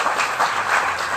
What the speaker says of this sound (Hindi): एक बार दान का नाम में ताली बजाओ सब लोग